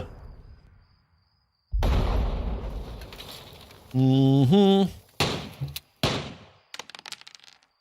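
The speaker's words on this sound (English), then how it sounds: "Oh, mortars." Mortar shells land in the World War II Pacific strategy game Valour & Victory: a sudden loud blast rolls on for a couple of seconds, followed by several sharper cracks and thuds, with a brief tonal sound between them.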